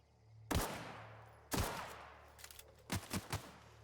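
Gunfire in the sci-fi video game The Outer Worlds: two sharp close shots about a second apart, then a quick ragged burst of three or four more, loud against a low hum.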